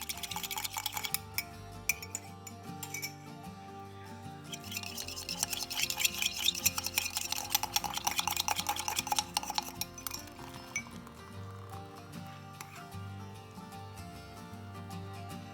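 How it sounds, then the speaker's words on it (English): A spoon beats coffee in a cup until foamy, giving rapid, quiet clinking and scraping strokes that come in bursts, busiest in the middle and then easing off. "My coffee beater wasn't working, so just beating it well with a spoon and it becomes foamy."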